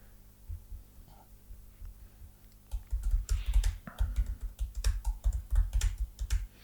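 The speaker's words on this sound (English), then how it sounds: "Typing a P into the search bar is dangerous." Rapid clicking of keys on a computer keyboard, starting sparse and quiet, then becoming a busy, steady flurry of typing at close range.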